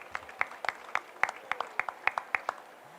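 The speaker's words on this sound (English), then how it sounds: "Can we do another round of applause for Uncle Ray," A small audience claps for Uncle Ray at a First Nations yarning circle, sparse and distinct handclaps in a loose, fairly regular rhythm, quiet and close, with no talk over them.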